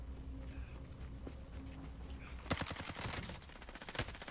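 Rapid gunfire in a video game, credited to a sniper: a dense burst of sharp cracks in the second half, following quieter game ambience.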